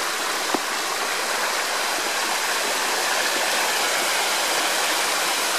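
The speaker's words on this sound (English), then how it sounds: "here we are, it's just a natural stream" A natural stream beside a levada on Madeira rushes in a steady, even flow of broadband water noise, close and continuous throughout with no voices.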